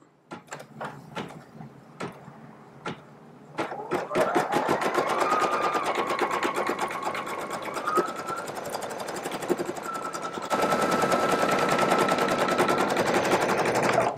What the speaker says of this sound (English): Now I'm ready to embroider this out.